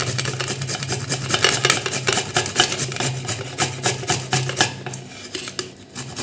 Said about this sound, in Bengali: এবার আমি এই গ্রেটারে পেঁপেগুলো গ্রেট করে নেব